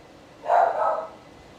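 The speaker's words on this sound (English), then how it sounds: "Now I made the dogs bark." Dogs barking somewhere off to the side of a road where an ebike with a bell is being ridden, a single short burst of barking lasting about half a second, moderately loud against quiet background hiss.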